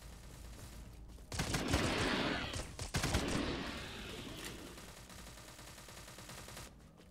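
Bursts of gunfire crack out in a forest-entrance area of a bandit-themed shooter game, two heavy volleys around one and three seconds in, trailing into a lingering rumble of more distant shots with no talking.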